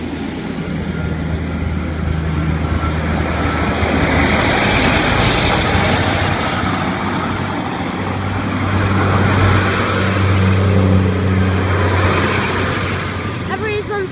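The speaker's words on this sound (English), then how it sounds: "That was the 1956 Great Western Railway service to Exeter Central." A Great Western Railway Class 143 diesel unit, number 143621, on the Exeter Central service passes Copplestone station with a loud, sustained engine rumble and a low drone that swells and holds across the whole stretch.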